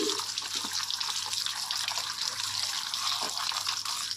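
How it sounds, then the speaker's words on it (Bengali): Water runs steadily from a tap while cut pieces of bogo fish are washed, a continuous close hiss and splash with no talking. "তো সমস্ত মাছগুলো কাটা হয়ে গেছে, এবার মা ধুয়ে নিচ্ছে।"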